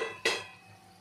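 Bombil fish being stirred in a pan: a single sharp metallic scrape of a spoon against the pan, close and brief, ringing off into quiet.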